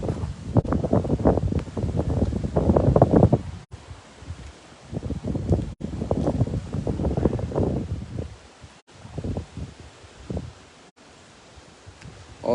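Outdoor wind buffets and rushes across the microphone in uneven gusts with brief calm gaps, fairly close and moderate in level, with no one talking.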